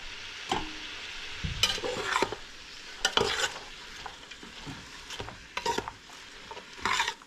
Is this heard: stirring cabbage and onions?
yes